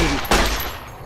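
A single 9mm pistol shot in Fallout New Vegas, a sharp close crack with a short decaying tail over a low ambient game hum.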